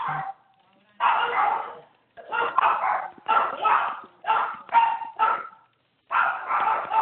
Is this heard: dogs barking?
yes